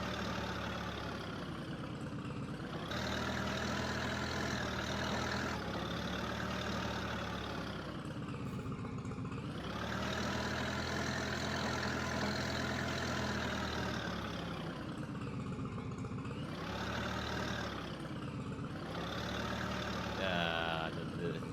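A tractor engine in Farming Simulator 22 idles and revs in slow waves, a steady droning hum that rises and falls several times and carries on without pause.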